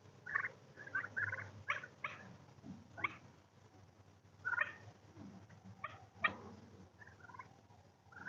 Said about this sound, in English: you can hear them make their turkey noises